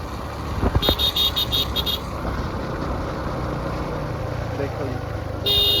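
A motorcycle engine labors under strain, a steady rough roar running throughout with brief horn-like tones near the start and again at the end, while people talk over it.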